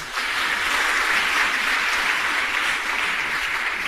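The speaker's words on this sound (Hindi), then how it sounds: "अगर आपको गौरव लगे तो ताली बजाना।" An audience at a lecture on Jain history claps together in steady, dense applause that holds at an even volume for a few seconds, with no voices over it.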